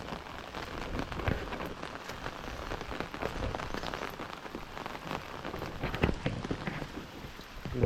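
Heavy rain pours steadily in the Konkan countryside, a dense, continuous roar of drops hitting surfaces up close, with no voices.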